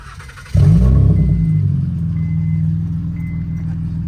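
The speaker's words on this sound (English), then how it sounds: "That wasn't a cold start, but it was kind of a start like that." An 8th generation Honda Accord engine cranks and catches with a sudden loud start, then settles into a steady low idle rumble, heard up close with no talking.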